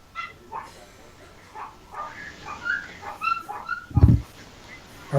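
Dogs yip, whimper and bark in a mix of high whines and short bursts, with one louder low bark near the end, all fairly close and a little muffled over background murmur.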